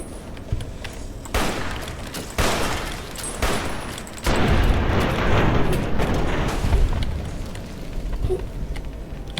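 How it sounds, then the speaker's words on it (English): Rapid gunfire and booming blasts in Fallout: New Vegas, loud and sustained, with dense overlapping shots and explosions filling the scene. "Firing weapons."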